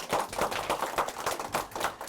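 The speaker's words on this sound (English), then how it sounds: "Let's give him a big round of applause." A small audience at a magic show claps for a young volunteer, a quick patter of hand claps in a steady rhythm, moderately close with no talking.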